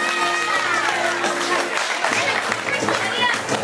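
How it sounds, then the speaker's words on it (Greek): Applause for Sofia at a tavli tournament prize-giving, a short burst of group clapping from a modest indoor crowd with voices mixed in, lasting a few seconds. "Χειροκρότημα στη Σοφία."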